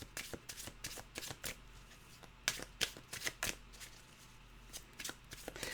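A deck of animal oracle cards shuffled by hand, crisp riffling and flicking bursts in quick irregular clusters, close and fairly quiet.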